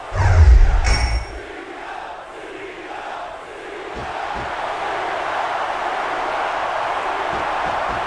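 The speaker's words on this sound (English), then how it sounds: "I can't remember the last time I seen a crowd so pumped up." An arena crowd in the WWE SmackDown vs Raw 2006 wrestling game on PS2 roars steadily after a bright bell-like ding and a low thump, the cheering swelling into a continuous loud wash.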